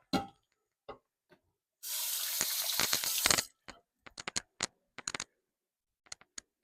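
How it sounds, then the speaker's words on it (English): Running tap water pours over hands for a couple of seconds in a kitchen sink, a bright close splash, surrounded by scattered small clinks and taps of dishes and utensils before and after. "Wash my hands."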